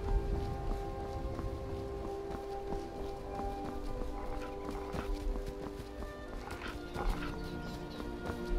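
Horse from the video game Skyrim, with clip-clop hoof steps and a possible whinny over a dense, continuous game soundscape of ambient noise.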